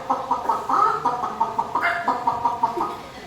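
A person imitates a chicken, voicing a run of rhythmic clucks and squawks, fairly close and steady, with no other talk.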